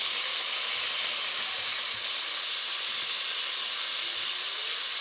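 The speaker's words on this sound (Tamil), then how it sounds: "தக்காளியும் வதக்கிக்கலாம் தக்காளி வதக்கியாச்சு" Tomatoes sauté in a pan for a brinjal and raw mango kuzhambu, producing a steady, hissing sizzle with occasional soft stirring and nobody talking.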